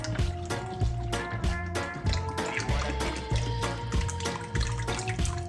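Liquid pours from a container over a turkey in a roasting pan, a continuous splashing, gurgling stream with rhythmic glugs, close and loud, and no talk over it.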